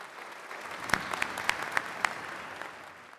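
Warm round of applause from an audience at a graduation ceremony, steady clapping with a few sharper individual claps standing out, moderately loud and close, with no talking.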